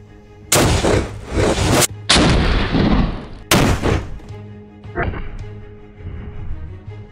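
A Degtyarev PTRD 14.5 mm anti-tank rifle fires at stone, three very loud, sharp blasts in quick succession, each with a ringing decay, followed by a fainter thud and lingering rumble.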